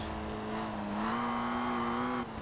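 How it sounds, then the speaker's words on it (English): A classic Citroen DS racing in Forza Horizon 4, its loud supercharger whine holding a steady rising pitch over the engine drone, close and continuous before cutting off near the end. "That supercharger whine. That sounds crazy. It's so loud."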